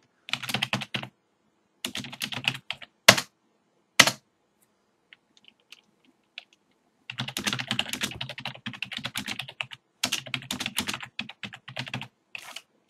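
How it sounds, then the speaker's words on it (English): Quick bursts of typing on a computer keyboard, apparently while writing a letter on a Windows XP machine, come in several runs of close, crisp key clicks separated by short silences, with two sharp isolated key strikes in the middle. "if you try to type a letter"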